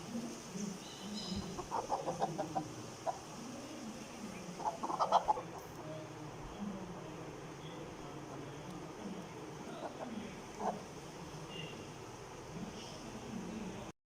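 First-bred chicks among domestic chickens make soft clucks and short chirping calls scattered over a steady low background, fairly close but modest in level, with brief livelier bursts early on.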